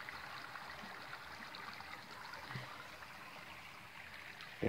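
Water rushing steadily through a small stream intake near Las Dantas, Granados, Baja Verapaz, running fuller than usual, a continuous close broadband flow with no talking.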